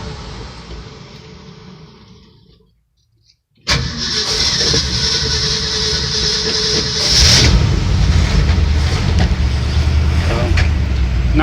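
A 1966 Ford F100 with manual choke and a standard fuel pump starts from cold: a grinding crank, a brief near-silent pause, then the engine catches and settles into a loud, rough, rising idle close by.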